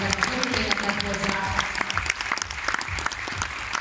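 A crowd applauds the coaches at a 2020 home gymnastics cup event in Győr, with dense, sustained clapping throughout and a voice speaking over it.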